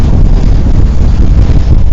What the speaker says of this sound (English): The wind was just coming across here from the cycleway.